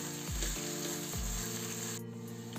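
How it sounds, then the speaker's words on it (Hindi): Chopped tomatoes with salt fry in hot oil for chole masala, a steady close sizzle with a few stirring scrapes, ending briefly quieter. "टमाटर को भी हमें अच्छे से पका लेना है जब तक इसमें से ऑयल सेपरेट ना होने लगे।"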